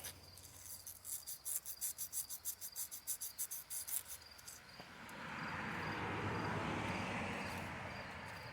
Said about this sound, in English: Taking a piece of 120 grit sandpaper, 180, sorry, just to clean up this feed tube.